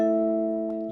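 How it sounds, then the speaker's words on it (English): A keyboard set to a vibraphone voice sounds one sustained, bell-like chord that rings clearly and decays slowly, loud and close with no other sounds. "It's a vibraphone, that's right."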